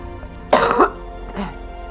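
A single sharp cough followed a moment later by a softer throat clearing, close and fairly loud against a quiet background.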